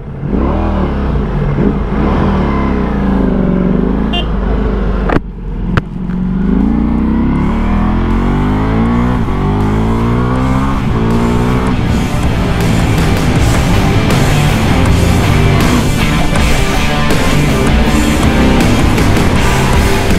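A Ducati Multistrada fitted with a Panigale engine rides off, its loud engine revving and climbing through the gears in a sustained, close roar with no talking.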